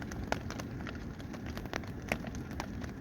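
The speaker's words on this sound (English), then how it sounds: "it's raining." Rain falling at night during a nearby thunderstorm, a faint steady hiss with scattered soft pattering drops and clicks, no voices.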